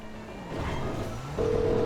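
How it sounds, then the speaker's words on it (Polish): A phone in the GTA 5 video game sounds with electronic tones: a low, gliding tone gives way to a clearer, sustained higher tone, fairly quiet. "Telefon jeszcze dzwoni."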